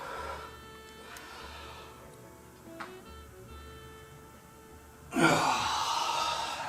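A yoga practitioner exhales audibly while holding a pose, a soft breathy rush building near the end and staying steady and close, with faint quiet background beforehand.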